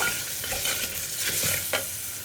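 Onions and shallots being stirred into spice powders in a pan for a pressure-cooker chickpea curry: a continuous soft sizzle with scraping stir strokes, steady and close, no voices.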